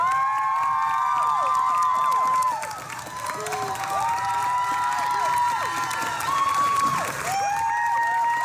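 A fan-convention audience cheers loudly as guests Rachel Miner and Misha Collins come onstage, with continuous applause, whoops and high screams. The dense crowd noise stays at full volume throughout, dipping briefly before swelling again.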